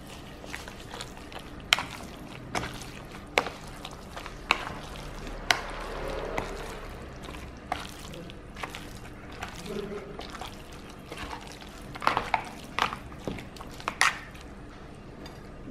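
Spoon scraping and stirring pork and shrimp in a pan, with intermittent clinks and wet, squishy sounds at close range.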